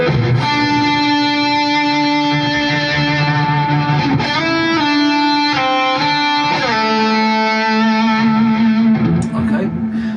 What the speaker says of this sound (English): a little bit more distortion, a little bit more drive on the overdrive pedal